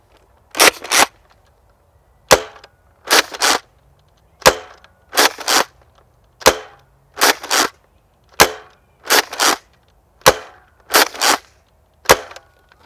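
A Nerf Rival Atlas blaster loaded with stock Rival rounds fires twelve sharp shots, some single and some in quick pairs, spaced across the stretch with short quiet gaps between them.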